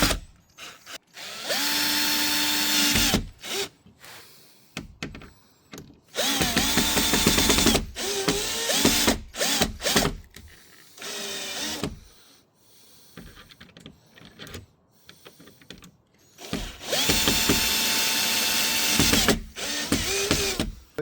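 A power drill drives screws into a front lip on a Swift Sport, in several close, loud whirring bursts separated by short pauses, with rising and falling motor pitch.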